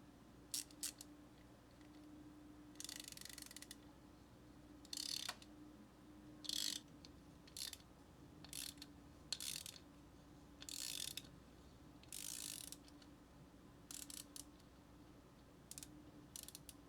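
Vessel slim bit ratchet clicking in short, evenly spaced bursts of fine, quiet, close-up ratcheting with brief pauses between strokes, heard alone.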